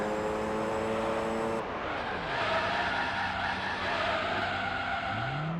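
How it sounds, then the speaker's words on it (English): Tyres skidding through a long burnout in the Gran Turismo 3 racing game, a loud continuous screech over a steady engine roar with pitch sweeps as revs climb and fall. "time to do a big fat burnout"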